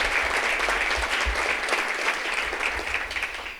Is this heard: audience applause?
yes